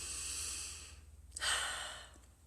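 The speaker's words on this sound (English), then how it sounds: "So take a deep breath" A single deep breath, a long airy inhale followed by a brief pause and a soft exhale, close and quiet with no speech.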